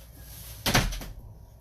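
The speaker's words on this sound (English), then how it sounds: "Don't slam my door." An indoor door slams shut with one sharp, loud thud and a brief rattling echo, rising abruptly out of a quiet room hiss.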